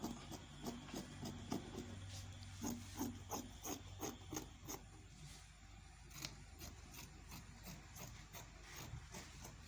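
Scissors cut fabric for the back yoke of a school uniform, producing a close, rhythmic series of soft crunching snips over a faint background hiss.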